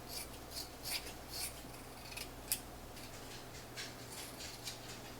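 Scissors snip through dress fabric in a quiet room, a run of crisp, regular close-up cuts with faint rustling between them and no voices.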